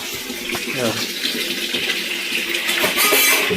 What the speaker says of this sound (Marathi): अशा प्रकारे पाणी आलं आहे